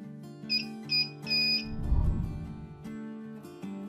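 Short repeated electronic beeps from a buzzer added to an LM2596 adjustable regulator circuit, three clear tones in quick succession followed by a low rumbling handling noise and a hum.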